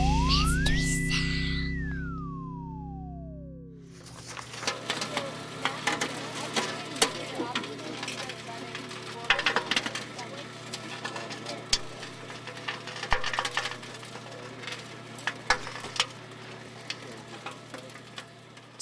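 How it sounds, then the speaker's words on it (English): A model Curiosity Mars rover rolls over rocks, making soft crackling, ticking and popping clicks at low volume. A falling electronic sweep and steady hum come first, then the irregular crunchy crackle continues alone. "You just heard the sound of a Martian rover driving over rocks."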